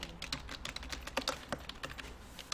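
Close, quiet typing on a computer keyboard during an Excel spreadsheet lesson, a quick, uneven run of soft key clicks with no talking.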